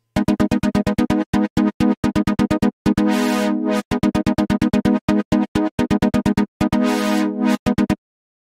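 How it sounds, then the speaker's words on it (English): A house stab synth in Surge XT pulses in rapid rhythmic chords, its filter swept by a tempo-synced LFO so the brightness rises and falls, with occasional noisy bursts, loud and alone. "Next, I use a voice LFO to move the filter."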